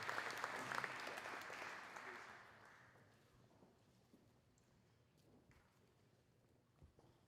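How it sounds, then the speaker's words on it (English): Audience applause for fall sports coaches at a high school athletic awards night, a loud burst of clapping that fades after a few seconds into quieter room noise and scattered footsteps. "how about a big round of applause for all of our fall coaches."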